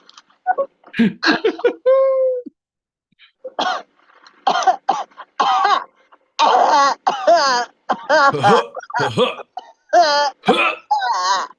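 A person coughs in a series of short, harsh bursts close to the microphone, breaking into throaty, laugh-like hacking between brief pauses.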